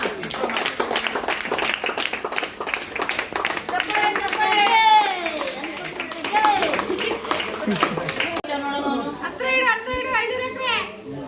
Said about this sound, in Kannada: ಚಪ್ಪಾಳೆ ಹೊಡಿಯಮ್ಮ